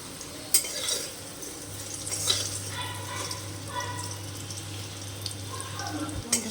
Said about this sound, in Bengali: আলুগুলো বেশ সুন্দর লাল করে ভাজা হয়ে গেছে। এবার আলুগুলোকে আমি তুলে নেব।